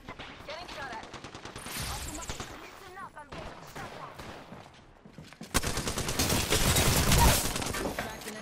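Rapid bursts of gunfire in a shooter video game, loud and dense, especially in the final few seconds, with scattered game effects mixed in and brief talking over the action.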